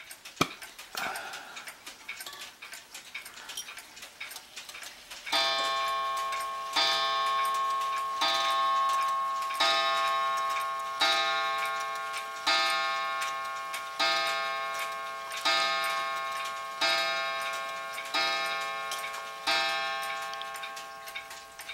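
A black French mantel clock with a slate finish ticks steadily, each beat ringing with a bright metallic tone that decays before the next. The ticks are close, even and alone, and fainter rustling comes first.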